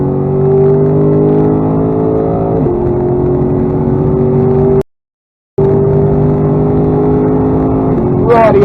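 Lexus GSF accelerating hard on a wet-drying race track at Bedford, the engine note rising loud and close in long pulls, broken by a brief dropout and a gear shift, then climbing again.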